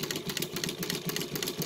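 A brand-new Mauzer Mannan chain stitch embroidery machine runs steadily while sewing circle fills, giving a smooth, fast mechanical whir with a regular stitching pulse, close and continuous.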